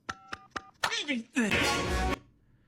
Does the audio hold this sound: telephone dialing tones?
yes